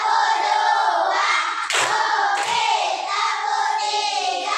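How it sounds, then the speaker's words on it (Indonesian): A class of children clapping in a counted pattern, with two sharp group claps heard among loud chanting voices that fill the whole stretch. "Tepuk satu, tepuk dua,"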